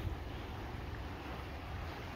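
Steady rushing water with a constant broadband wash, like a strong flow or surf, mixed with some wind noise on the microphone, as floodwater flows through a coastal basin at Davenport, California.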